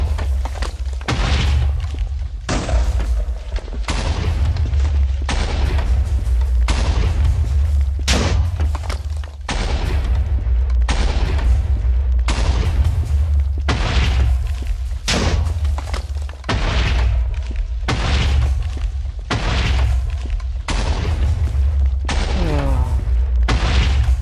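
Repeated TNT explosions in Minecraft, a loud, dense run of booming blasts and thuds firing in rapid succession throughout, close and heavy, with faint talk now and then underneath.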